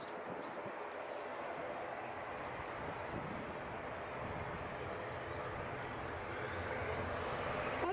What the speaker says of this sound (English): you can hear a ATR strumming away in the background.